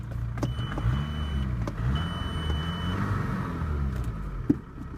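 Engine of a 2002 Volkswagen Jetta diesel idles with a steady low rumble, close by, with a brief sharp tick near the end and a faint whine riding above.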